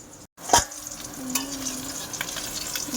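Fish sizzling as it fries in hot oil at home, with a short sharp clatter near the start and then a steady close crackle that keeps going throughout.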